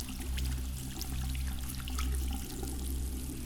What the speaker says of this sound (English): The next task that we shall do is in here, the decontamination shower.